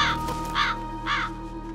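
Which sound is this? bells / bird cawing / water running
bird cawing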